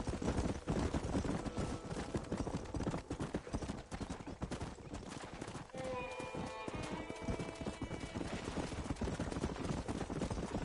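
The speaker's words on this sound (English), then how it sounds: "There's the horses!" Galloping horse hooves in the Red Dead Redemption 2 video game, a busy rhythmic clip-clop running steadily throughout, with whinnies, shouting and game music layered over the pounding hooves.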